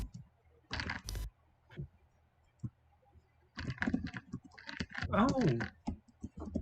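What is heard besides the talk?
typing on a computer keyboard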